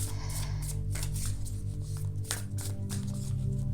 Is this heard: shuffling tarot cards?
yes